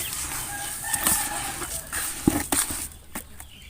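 Farmyard chickens and a rooster at a rural morning feeding flap their wings in bursts and cluck, with a crow rising among the busy, close flutter.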